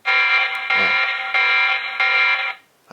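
A loud electronic alarm siren from a TP-Link Tapo C500 outdoor security camera sounds in steady, repeating pulses, shrill and close, then cuts off near the end.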